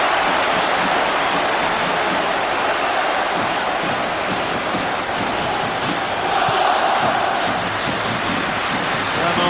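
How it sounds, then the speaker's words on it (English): A large football crowd roars at a Scotland v France European Championship qualifier: a dense, sustained wall of cheering, loud and unbroken throughout, with no clear voice standing out. "The cheer tells you it all."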